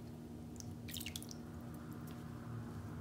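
Water drips by hand onto wool wrapped around a bar of soap, several close, soft wet plinks clustered near the middle over a steady low background hum.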